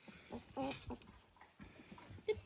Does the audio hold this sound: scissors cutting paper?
no